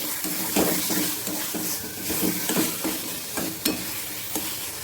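A utensil scrapes and stirs a spice mix of dried chilli, cumin, cloves, cinnamon, cardamom and pepper into palak keema in a sizzling pan, giving rhythmic scraping strokes over a steady frying hiss.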